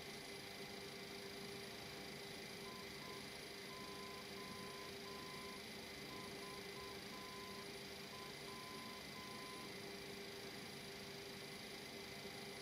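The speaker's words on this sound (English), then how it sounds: "Oh, my alarm is going off." An alarm beeps in a repeating pattern of short tones over steady fan-like hum and background noise, faint and continuous throughout, with no talk.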